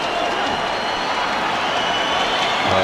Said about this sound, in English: the noise you can hear in the background is the crowd cheering for the Blitzbocker